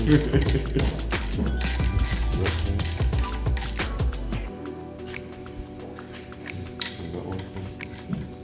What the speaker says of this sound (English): I could teach Albert how to hold the ratchet gun